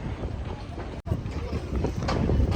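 A small boat's engine rumbles steadily up close on the way to Venice, mixed with gusty wind buffeting the microphone and a brief dropout partway through.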